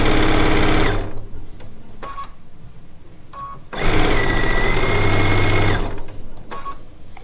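A sewing machine stitches quilt pieces cut from charm packs, running in loud, steady bursts with short pauses between seams.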